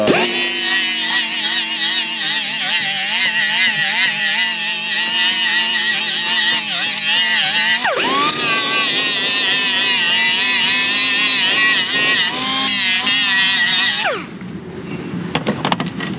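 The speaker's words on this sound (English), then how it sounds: "I'll take my little whiz wheel right here and just see" A small whiz wheel grinds the lip off a brake drum during a parking brake repair, giving a loud, steady, high-pitched whine whose pitch dips as the wheel bites. The whine stops near the end, leaving quieter shop noise.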